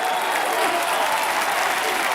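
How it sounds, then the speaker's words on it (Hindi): A studio audience on the Hindi quiz show KBC bursts into dense, sustained applause, loud and even for the whole stretch, with a faint murmur of crowd underneath. "देवियों सज्जनों, आज यहाँ तालियों की बौछार जो हमने देखी है और जो गूंज सुनी है"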